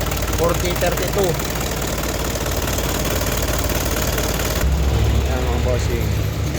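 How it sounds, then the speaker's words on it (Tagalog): A Mitsubishi Canter truck's 4D32 diesel engine idles steadily with a close, knocking rumble, while someone talks over it. "Ang makina ng ating 4032."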